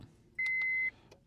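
A single sharp electronic beep lasting about half a second, loud and close, sounding while an MS309 Pro scan tool is tested on a car, with quiet background around it.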